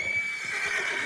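A horse whinnies in the Red Dead Redemption 2 video game, a steady, loud neigh lasting about a second against continuous game background noise.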